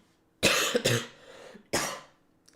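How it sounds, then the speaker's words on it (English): Two harsh coughs close to the mic, the first a quick double cough with a rough trailing breath, then a single cough after a pause. "I'm going to be coughing quite often, by the way, during the stream"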